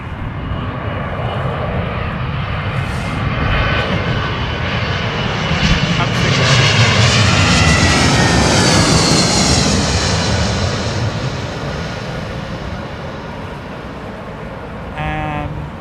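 Aircraft engines roar steadily at London Heathrow Airport, a loud sustained drone that swells and shifts in pitch as a plane moves nearby, with a brief rattling burst near the end.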